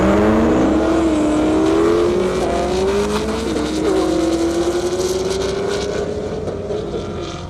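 A 2003 Corvette and a Camaro SS launch in an airport drag race, engines roaring loudly and rising in pitch through the gears as they pull away, fading slightly toward the end.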